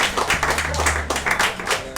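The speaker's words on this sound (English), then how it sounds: "Another round of applause, guys." Audience applause at an evening talk on ferns, a steady wash of many hands clapping close by for about two seconds, with a faint voice underneath.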